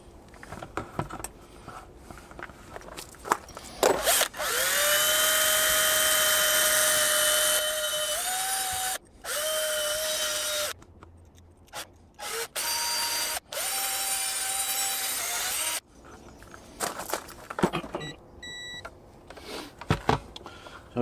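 An electric drill with small attachments spins at high pitch in bursts, whining steadily for several seconds at a time while cleaning corroded electrical connectors on an RV water pump, with short pauses and faint beeps between runs.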